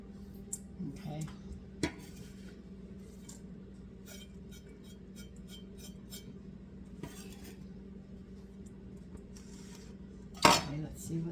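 Metal dishes knock and clink against each other in a kitchen sink: faint, scattered clanks throughout, then a louder clattering burst near the end over a low steady hum.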